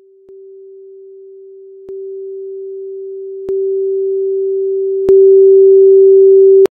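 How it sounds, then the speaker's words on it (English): Five steady pure tones at one pitch play in a row, each separated by a short click and each clearly louder than the one before, with no voices. "All with the same frequency, but every next sound will be 2 times more intense than the previous one."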